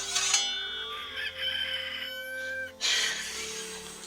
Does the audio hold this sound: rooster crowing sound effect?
yes